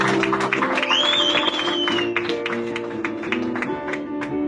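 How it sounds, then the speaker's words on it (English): An audience claps at a live podcast show, a sustained, fairly loud wash of applause with a few scattered whoops, continuous for several seconds. "clap it up, everybody."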